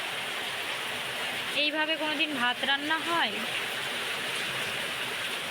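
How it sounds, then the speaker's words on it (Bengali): Heavy rain pours steadily as a broad, constant hiss, with a gusting wind behind it, while someone speaks briefly over the downpour. "একটু হাওয়া হচ্ছে আর বেশি জোরে বৃষ্টি হচ্ছে"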